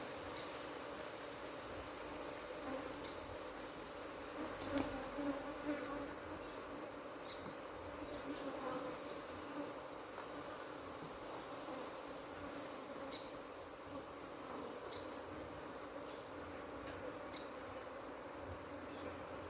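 Honeybees swarm and buzz around pulled hive frames during an inspection, a steady dense drone with individual bees zipping close past, continuous throughout with no talking.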